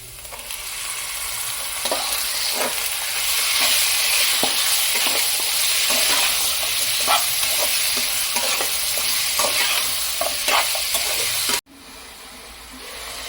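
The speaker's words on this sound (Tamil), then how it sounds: "மட்டன் நல்லா வதங்கிடுச்சு" Half a kilo of mutton frying with golden-brown fried onions for a pepper mutton fry, making a loud, constant sizzle and hiss broken by a run of regular stirring scrapes, then a sudden brief drop near the end.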